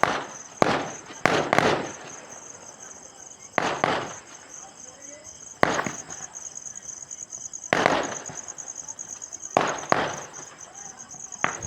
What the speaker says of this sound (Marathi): कसे तटका फटाके फुटले रे बा